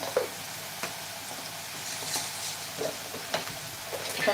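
Onion and spices sautéing in a pan for a cauliflower and potato curry, a quiet, steady sizzle broken by occasional scrapes and stirs, with no talk.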